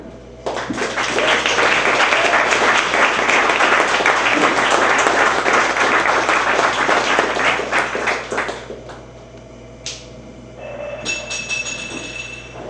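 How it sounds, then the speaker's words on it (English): Audience at a film festival poetry reading breaks into loud, dense sustained clapping that swells for about eight seconds, then thins to scattered claps and fades near the end. "Keep clapping"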